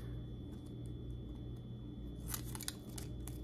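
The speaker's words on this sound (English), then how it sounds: "These are little scissors. Not sure if they work. Let's give it a try." A few quick, crisp snips from small scissors near the end, over a steady low hum and faint background noise.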